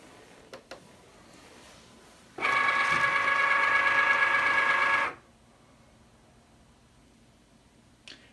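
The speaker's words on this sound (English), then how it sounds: "And the machine here is going to read those black lines." A Cricut cutting machine begins a print-and-cut job on thin cardstock, giving off a steady mechanical whir with a faint tone for roughly three seconds, set between quiet stretches with small clicks.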